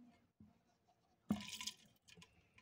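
Water splashes briefly into a snail terrarium, a short close, loud pour and splash after faint background noises, then a few quieter drips.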